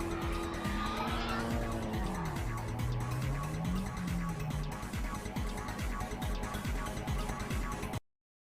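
Nissan Laurel drift car at a drift nationals event, tyres squealing in long wavering tones over loud, continuous engine roar, close and sustained before the squeal fades into steady engine noise.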